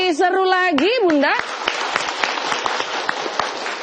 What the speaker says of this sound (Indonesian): Boleh tepuk tangannya lebih seru lagi